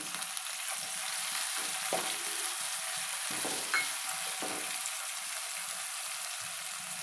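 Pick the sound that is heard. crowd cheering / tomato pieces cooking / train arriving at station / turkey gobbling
tomato pieces cooking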